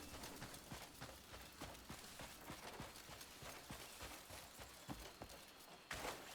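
Rhythmic hoofbeats of a galloping horse in the Crimson Desert video game, a steady fast clip-clop pattern at moderate distance under faint ambient game sound.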